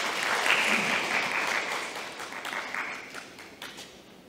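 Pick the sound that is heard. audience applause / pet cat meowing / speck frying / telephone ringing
audience applause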